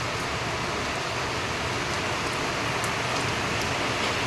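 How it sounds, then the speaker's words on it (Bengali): Steady rain pours down in a dense, unbroken hiss that holds an even level throughout, with no voices over it. "তো দেখো কি সুন্দর বৃষ্টি হচ্ছে।"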